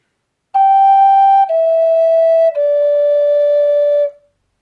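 A Native American flute plays an inverted motive phrase that begins high on the instrument and steps down through three sustained, pure notes, each held over a second, close and clear with no talking.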